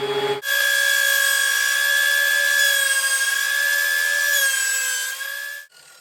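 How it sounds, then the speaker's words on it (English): A wooden block for a Thor's hammer shop project feeds through a planer, giving one loud, steady, high-pitched whine and roar that holds for about five seconds before cutting off abruptly. "we're just going to send it through the planer for the other two sides."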